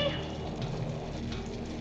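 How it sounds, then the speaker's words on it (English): Steady rain pours down in a 1985 horror film scene, a continuous hiss with no breaks, heard clearly throughout. "The rain will wash away the vapors."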